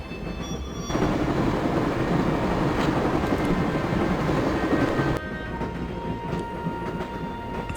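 In the Broken Sword Director's Cut video game, a train rumbles steadily with rolling wheel noise and faint squeals, growing louder for a few seconds before settling back to a quieter hum.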